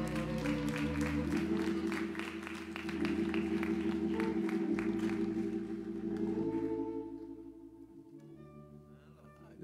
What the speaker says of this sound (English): Let's give him a hand clap of praise.